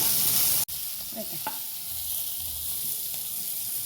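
Onions and curry leaves fry in a pan over an outdoor fire in a yard, giving a steady close sizzle with one sharp utensil knock near the start and light stirring scrapes.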